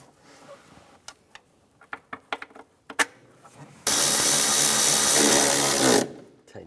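Intake manifold bolts on a 2004-2010 BMW X3 are tightened: a few light metallic ticks and clicks come first, then a loud, steady burst of a power tool running for about two seconds.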